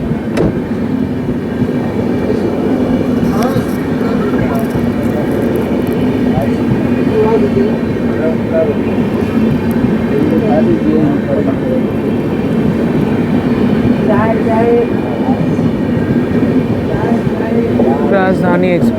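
From on board, the New Delhi Amrit Bharat Express runs behind a WAP 7 electric locomotive, giving a loud, continuous rumble with rattling carriages and rhythmic clatter, while voices chatter faintly in the background.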